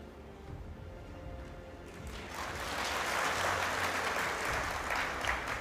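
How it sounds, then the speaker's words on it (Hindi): Audience applause at a motivational talk on unity, starting soft then swelling after about two seconds into a full, steady clapping from a large crowd. "अब आप लोगों ने ये तालियां क्यों बजाई हो मुझे बताएं."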